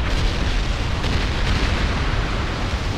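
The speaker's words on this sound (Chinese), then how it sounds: "我要丢鱼雷，丢鱼雷，快发射吧" A dull, rumbling explosion from a torpedo strike in the naval battle game World of Warships, a sustained low boom filling the clip with no voices over it.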